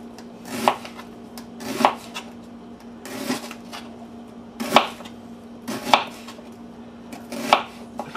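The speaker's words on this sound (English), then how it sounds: "Next, the onion. I'm slicing it a different direction than usual this time." A knife slicing through an onion on a cutting board, six sharp chopping strokes landing about once a second, close and crisp, with no talking.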